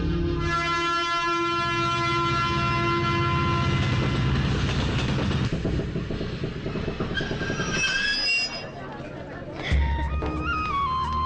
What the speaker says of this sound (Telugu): అమ్మో, ట్రైన్ వచ్చేస్తుంది.